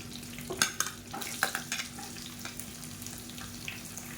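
Slit green chillies and chopped onion sizzle in a hot pan while a spoon scrapes and stirs them in quick, irregular strokes, close up, over a faint steady hum.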